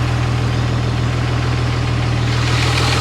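A turbo diesel engine idling close by, a loud and steady low rumble with an even throb and no talk over it.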